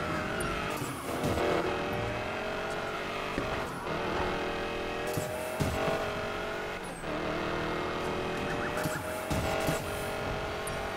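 A car in the racing game Need for Speed Payback roars along at speed with a helicopter in pursuit, its engine whining steadily while tires squeal and skid in repeated bursts, loud and continuous throughout.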